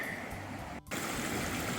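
A stream at a water crossing on the Pacific Crest Trail rushes in a steady, close, broadband wash, briefly cut out by a momentary dropout.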